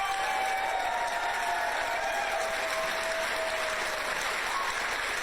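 Applause from an audience in a played-back speech recording about a scholarship, a continuous even wash of many hands clapping at moderate distance with a faint tone running underneath.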